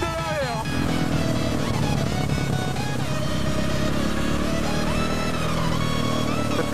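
A KTM SMC R 690 motorcycle ridden with the rear wheel sliding, its engine droning loud and steady throughout with rising and falling pitch sweeps and tire noise.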